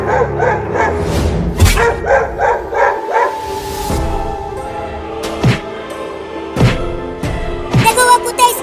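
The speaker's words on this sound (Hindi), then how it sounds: "वो कुत्ते उस लकड़ी के घर के सामने भौंक रहे हैं" Cartoon dogs bark loudly in front of a wooden house, a run of sharp close barks and yips with whimpering between them, repeated in uneven bursts.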